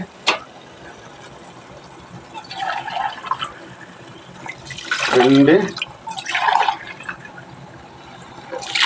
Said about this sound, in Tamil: நம்ம 4 கப்பு தண்ணி ஊற்றுறோம்.